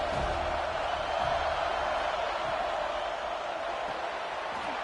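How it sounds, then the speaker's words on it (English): Steady roar of a college football stadium crowd at Alabama versus Florida State, a broad continuous wash of massed voices holding at constant loudness throughout, with no distinct cheer peaks. "this crowd trying to help keep them there"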